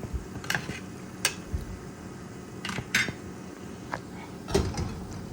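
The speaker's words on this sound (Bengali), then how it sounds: "জলটা দিয়ে একটু নাড়াচাড়া করে নিচ্ছি" Dried fish (shutki) is stirred with water in a pan. Sparse, quiet metallic clinks and taps of a utensil against the pan come at irregular intervals over a low background.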